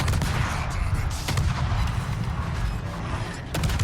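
Naval video game gunfire as the destroyer Z46 shoots armor-piercing shells, heavy booming blasts over a constant low rumble, loud and dense throughout with a sharp crack near the end.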